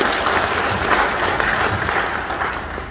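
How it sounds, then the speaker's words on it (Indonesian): An audience at a discussion meeting in Cirebon about the Jatigede reservoir applauding a speaker, with dense, continuous clapping from many hands filling the room at steady loudness. "Tepuk tangan untuk beliau."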